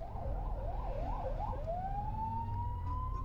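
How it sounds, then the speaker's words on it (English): An ambulance siren wails quickly, then shifts to a rising, drawn-out tone as it passes, heard at moderate distance from inside a car over steady road noise. "Oh, the ambulance."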